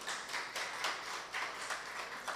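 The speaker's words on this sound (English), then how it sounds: "Give them a round of applause, please." Audience applause at a youth symposium, a steady patter of many hands clapping, moderately distant and filling the room without voices.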